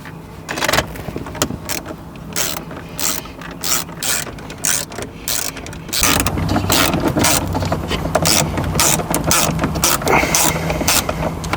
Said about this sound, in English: we're going to take the 4 bolts that we removed and just tighten them back in.